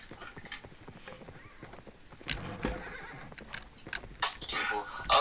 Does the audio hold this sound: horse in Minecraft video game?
yes